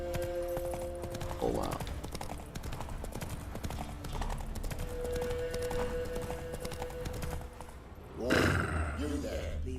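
Hooves of Roach, a horse in The Witcher 3, clip-clop steadily throughout at a walking pace, with a brief whinny near the end and someone talking over the steps.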